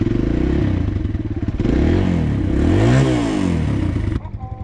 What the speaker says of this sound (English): Warming up Allie's bike.